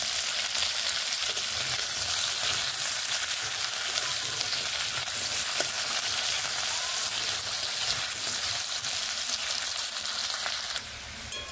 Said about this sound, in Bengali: আলু গাজরগুলোকে এইভাবে একটু ডিপ ফ্রাই করছি।